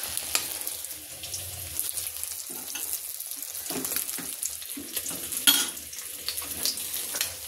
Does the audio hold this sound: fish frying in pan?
yes